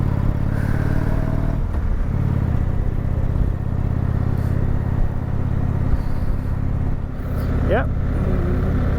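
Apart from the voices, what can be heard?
motorcycle engine while riding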